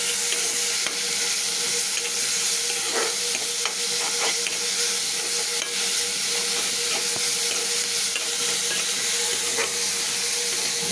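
Onions sautéing in a little oil with turmeric, a steady loud sizzle and hiss throughout with occasional light stirring clicks, close and continuous.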